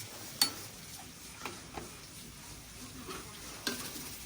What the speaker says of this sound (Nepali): फेरि यसलाई चलाउँछौँ एकचोटि है